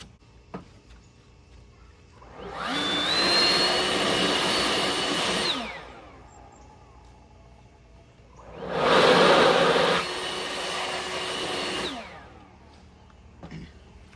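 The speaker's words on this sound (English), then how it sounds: "Get the blower and give it another quick run through here." Two long bursts of compressed-air blower noise, each lasting about three seconds, blasting debris out of the upper fins while cleaning a 2018 Silverado 5.3 engine filter area; loud, steady hiss with quiet gaps between.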